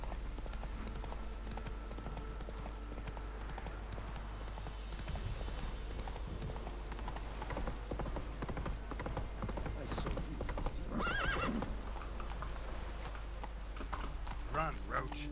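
Hoofbeats of the horse Roach running in The Witcher 3: Blood and Wine, a steady clip-clop rhythm held up close under a constant low game hum and music, with brief louder clatters partway through.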